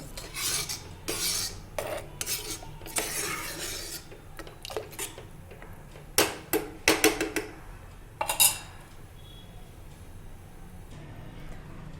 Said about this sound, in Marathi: पाणी घालून मिक्स करून घ्यायचं चांगलं